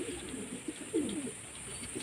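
A pet pigeon kept at home coos softly in a single low, rolling call near the middle, against a steady quiet background hiss.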